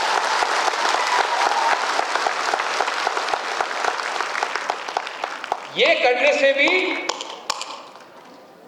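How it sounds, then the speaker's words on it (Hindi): A crowd claps at a Tipra Motha party joining program in Agartala, with steady applause and scattered taps running under a speaker's amplified voice before the noise fades. "ताली होता है,"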